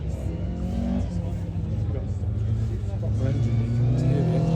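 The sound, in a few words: Ford Escort car accelerating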